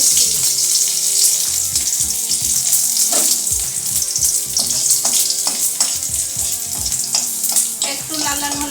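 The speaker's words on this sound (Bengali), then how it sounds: "এখন তেলটা গরম হয়ে গেছে, দিয়ে দিচ্ছি রসুন কুচি" Chopped garlic crackling and sizzling as it fries in hot oil, a loud, dense continuous hiss close by, broken by scraping stirs and clinks of a utensil against the pan.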